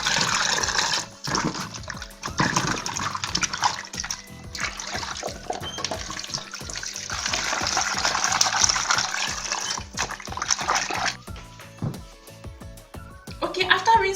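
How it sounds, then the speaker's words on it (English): Peeled ginger is rinsed under running kitchen water, a splashing trickle that swells and breaks off in several bursts with small knocks of handling, while a person talks throughout. "I'm done peeling the ginger, so I'm just going to rinse this a little bit"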